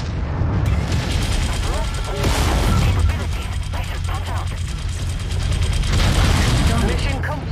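Rapid machine-gun fire from a battle mech in Mechwarrior 5, a dense, continuous mechanical rattle with heavy low rumble that runs throughout, loud and close, under brief talk.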